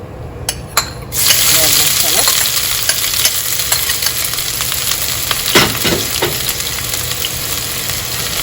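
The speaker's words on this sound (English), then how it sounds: "So I'm gonna put some coconut oil. I'm gonna fry my shallots." Shallots fry in hot coconut oil as a garnish for chicken biryani: a dense, steady sizzle and crackle starts after a brief quiet moment and continues close and loud, with a few sharper pops and stirring scrapes partway through.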